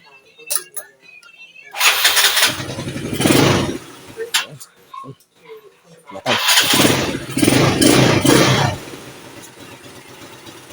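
A Yamaha Mio motorcycle engine with a 59 mm 6.0 cam build fires up and revs in two loud bursts, with short pauses between and a voice speaking briefly nearby.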